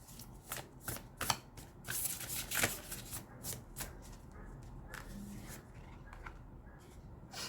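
Tarot cards being shuffled close up, a steady run of crisp riffling and slapping bursts of cardstock lasting several seconds with no voices.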